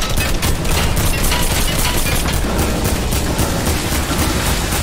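Rapid, continuous gunfire from the Fortnite video game, a dense close barrage of shots sustained at steady loudness throughout, with no talk over it.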